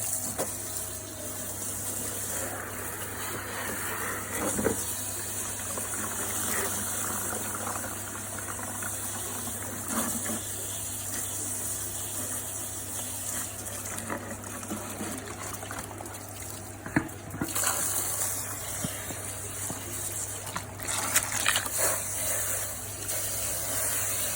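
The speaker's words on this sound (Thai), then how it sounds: "ลองมาลองฉีดล้างกันดู" Water sprays in a steady hissing stream onto a homemade coarse sediment filter to wash it out, continuous and fairly close, with slight surges and splashes but no talking.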